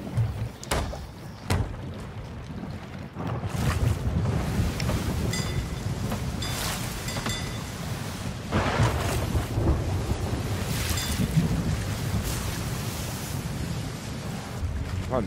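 Stormy open sea in the pirate game Sea of Thieves, with a steady roar of wind and crashing waves around a ship, broken by a few sharp, loud cracks of thunder early on.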